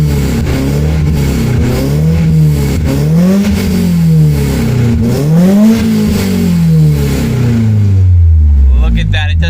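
A BMW 318i E30 engine, running poorly with a suspected head gasket fault, revs up and down in several rising and falling sweeps before settling, loud and close, with no talk over it.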